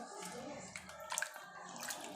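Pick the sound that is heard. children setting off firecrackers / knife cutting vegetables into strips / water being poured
water being poured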